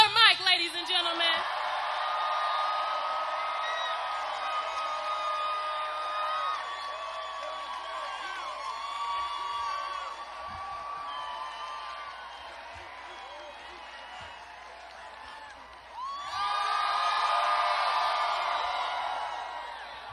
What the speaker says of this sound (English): give a warm round of applause to Killer Mike, ladies and gentlemen